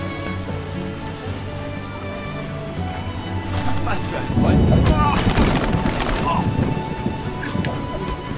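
Rain hisses steadily through the Witcher game world, swelling midway into a louder, rougher burst like a rumble of thunder, while someone speaks briefly over the music and weather.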